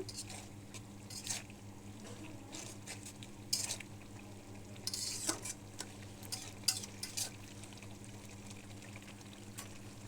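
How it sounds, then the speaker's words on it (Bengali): Fish curry with meni fish and pea shoots being stirred in a pan, the spoon scraping softly in faint, uneven strokes over a low, steady background hum. "এই যে এখন পুরো তরকারিটার সাথে আমি এটা নাড়াচাড়া দিয়ে দিলাম"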